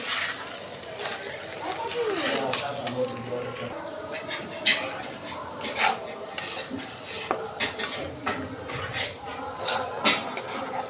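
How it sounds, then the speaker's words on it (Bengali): Rice sizzles in a hot pan as it is fried for pulao while a spoon scrapes and stirs it in repeated clinks, with a voice speaking now and then. "এই যে চালটা আমি একটু ভালোভাবে কষাই নিতেছি"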